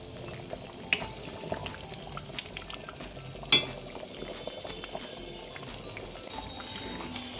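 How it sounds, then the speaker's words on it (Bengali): Palak paneer, a spinach and cottage cheese curry, simmering in a pot: a soft steady bubbling with occasional small pops and one sharper clack, close and fairly quiet. "জাস্ট একটু ফুটবে।"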